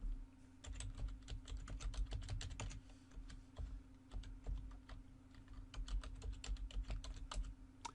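Rapid keyboard typing on a computer while entering an email during account registration, steady irregular clatter of keystrokes close to the mic, with a constant low hum underneath and no talking.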